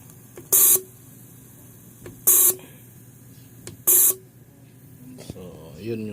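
Fuel injector from a Toyota 4A engine spraying on a test bench, three short sharp hissing bursts spaced about two seconds apart, with a faint background hum and a brief voice near the end.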